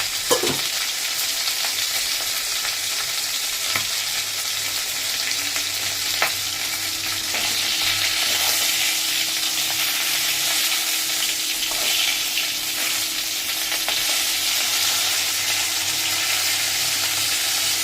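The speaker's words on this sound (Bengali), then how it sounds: "মাথাটা ভালো করে লাল লাল করে ভেজে নিই।" A fish head frying in oil gives a steady, loud sizzle for the whole stretch, with occasional spits and pops and no talking.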